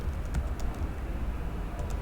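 Someone types on a computer keyboard in a steady run of close, crisp key clicks with no talking.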